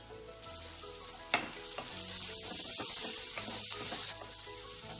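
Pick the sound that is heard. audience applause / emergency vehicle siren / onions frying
onions frying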